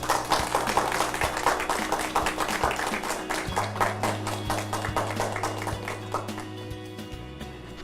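Scattered clapping from a church audience welcoming a deaconess to share her short-term mission story, a steady patter of many hands at moderate loudness over a faint low hum.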